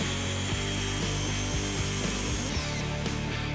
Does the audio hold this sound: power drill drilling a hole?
yes